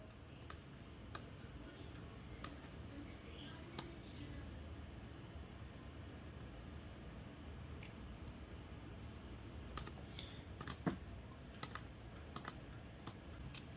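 Sparse, isolated presses on a computer keyboard, a handful of light clicks scattered over a steady low background hum, fairly quiet and close.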